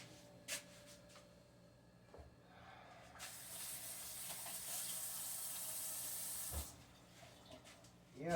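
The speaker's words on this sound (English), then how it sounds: "Let me wash my hands." Kitchen tap runs while hands are washed: a faint knock, then a steady hissing stream of water for about three seconds, ending with a thump as it shuts off.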